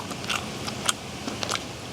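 Someone bites into Korean-style fried chicken at home, a few soft crisp crunches and chewing sounds scattered over about two seconds, close to the mic and fairly quiet, with no talking.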